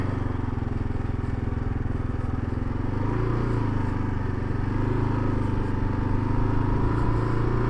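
A stock Kawasaki KLR650 motorcycle engine thrums steadily at close range, a low, continuous single-cylinder drone that shifts slightly in pitch as the bike slows and turns around.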